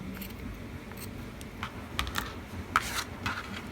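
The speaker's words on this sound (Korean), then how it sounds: "가위가 잘 안 들어서." Scissors snip through crochet yarn, trimming the ends to length; a series of short, crisp cuts sounds close by, spaced irregularly, with no talking.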